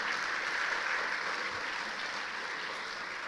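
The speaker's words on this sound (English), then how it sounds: "Everybody, please give a huge round of applause for him." A crowd at a college orientation event claps steadily in sustained applause, a dense wash of hand claps without pause.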